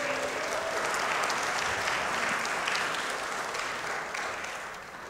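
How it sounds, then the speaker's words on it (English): Sustained applause from a Lutheran church congregation in Rapid City for bluegrass musicians at a Saturday service, a full, steady roar of clapping that tapers slightly toward the end. "Give them a round of applause."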